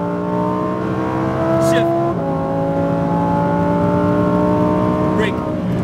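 A Lamborghini Huracán STO on a race track accelerates with a loud, close, high-pitched engine drone that rises in pitch, drops sharply at a gear shift, then climbs again, while an instructor talks over it.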